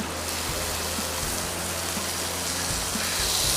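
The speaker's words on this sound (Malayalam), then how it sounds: "പുറത്ത് നല്ല മഴയുണ്ട് കേട്ടോ, അപ്പോൾ അതിൻ്റെ ഒരു സൗണ്ട് ഡിസ്റ്റർബൻസ് ചിലപ്പോൾ നിങ്ങൾക്ക് ഉണ്ടാവും" Heavy rain pours steadily outside, a dense, constant hiss of drops on surfaces with no pauses, heard alone throughout.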